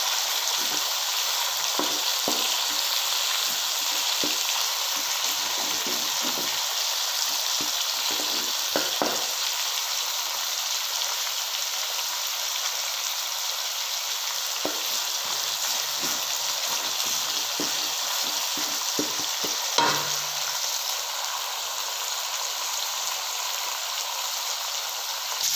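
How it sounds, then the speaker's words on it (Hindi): Chicken with ginger-garlic paste fries in a pan, a steady close sizzle throughout with scattered clicks and scrapes of stirring and no talk. "इसको हम अच्छी तरह से फ्राई कर लेते हैं ये सेंटर में"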